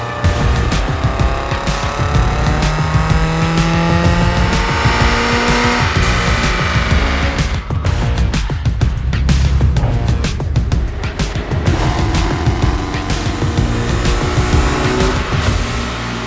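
A race car run hard on a dynamometer, engine screaming loud and continuous with rising and falling pitch sweeps and a brief harsh burst midway.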